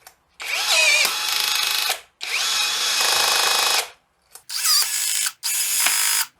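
A cordless battery-powered rivet gun running on a Makita-type battery, pulling and setting a rivet in fully automatic mode: four loud motorized whirring bursts, each about a second or two long, separated by short pauses, with no talking.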